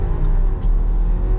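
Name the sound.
Audi Q5 hybrid accelerating, engine note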